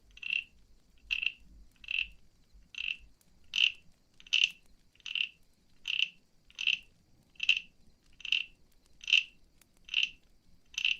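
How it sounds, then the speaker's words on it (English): A small frog croaks in a steady series of about fourteen evenly spaced calls, each a short bright chirp, close and clear over a quiet background with no talking, during a gentle potion-brewing roleplay. "Are you okay with giving us a few more croaks, my little friend?"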